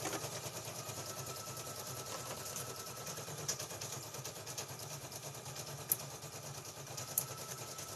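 An embroidery machine stitches out a felt Tinkerbell design, producing a steady, faint mechanical whir with fine rapid texture throughout and a couple of small clicks.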